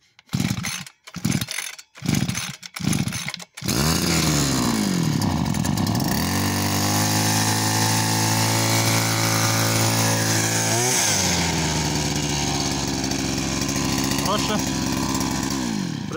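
Petrol string trimmer being started: several sharp pull-cord tugs, then the engine catches and runs loud and steady, with pitch swings as it revs up and settles, and someone speaks briefly over it.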